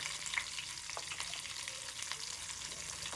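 A tempering of dried chillies, curry leaves, crushed garlic and a pinch of turmeric fries in oil, giving a soft, even sizzle with faint crackles throughout.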